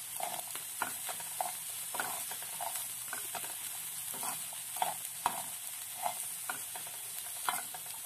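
Onion and garlic fry in a pan in leftover steak fat for Mexican-style steaks, giving a steady soft sizzle with scattered light stirring scrapes, close and fairly quiet, with no talk.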